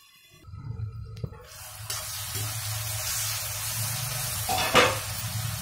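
Peas being stirred while cooking in a pan for Banarasi chura matar: a steady close sizzle fills the pan, broken by a couple of sharper scraping stirs, after a quiet start.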